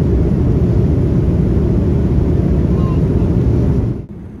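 A LATAM Boeing 787 Dreamliner approaches the runway on Easter Island, heard as a loud, steady low cabin roar of engines and airflow that drops away abruptly near the end.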